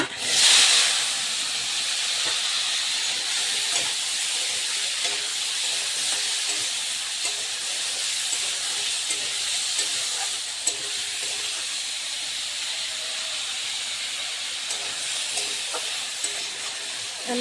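Potato pieces coated with turmeric and salt fry in hot oil, giving a steady, even hiss that holds at a constant level throughout, with no talking.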